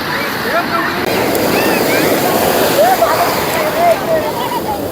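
Sea waves break on the Konkan shore at dusk in a loud, continuous roar of surf mixed with wind buffeting the microphone, while voices call out faintly over the water.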